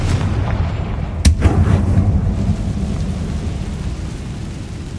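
A Confringo explosive spell blast goes off in the video game Hogwarts Legacy, one sharp loud boom followed by a rumbling tail over steady low game ambience.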